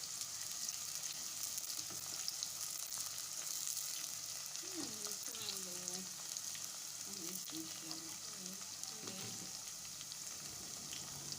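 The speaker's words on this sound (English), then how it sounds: "So I'll fry in the onions, the purple onions and the green onions or spring onions." Purple onions and green spring onions fry in oil for a Nigerian peppered chicken recipe, giving a steady, soft crackling sizzle throughout with a few faint clinks and tonal bits in the middle.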